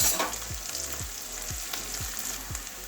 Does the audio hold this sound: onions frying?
yes